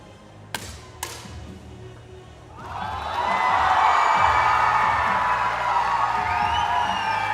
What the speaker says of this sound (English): you can just hear the crowd, you can hear the reaction